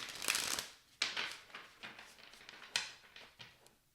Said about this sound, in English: One more good shuffle, and then we will pull 4 cards.